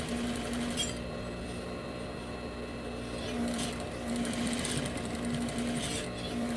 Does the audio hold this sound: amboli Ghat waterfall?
no